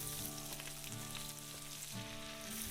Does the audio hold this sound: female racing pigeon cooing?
no